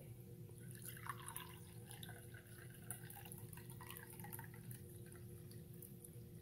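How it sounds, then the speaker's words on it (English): A homemade detox drink is poured into a fancy glass, a faint, close trickle with scattered drips and splashes continuing quietly throughout, no voices. "now I'm just going to pour it in this nice fancy glass right here"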